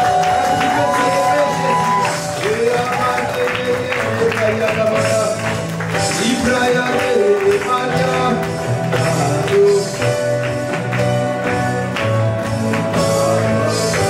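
A church congregation at a French-language worship service cheers and shouts in acclaim, a loud, continuous crowd roar with whoops and raised voices over music, filling the space throughout.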